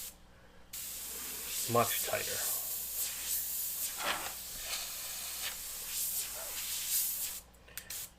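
An airbrush sprays paint over a tiki painting in a steady, close hiss that swells and eases in short bursts, while a person talks over it.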